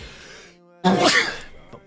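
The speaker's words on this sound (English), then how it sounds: "Gotta sneeze. I feel it." A single loud, close sneeze bursts out after a quiet pause, trailing off with a short breathy exhale.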